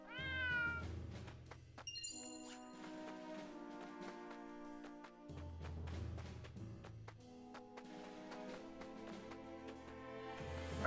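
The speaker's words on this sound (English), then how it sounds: "Kitty." A cat meows repeatedly in the tactical role-playing game Triangle Strategy, several clear mews set over a steady musical score with no voices.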